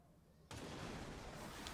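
A video game explosion bursts in suddenly after a moment of near quiet, then settles into a sustained, roaring rumble that fills the rest of the short moment.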